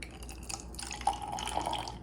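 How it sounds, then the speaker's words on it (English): Apple cider vinegar is poured into a small plastic container, giving a light trickle and a few drips at close range in a quiet room. "take the lid off, pour in your apple cider vinegar"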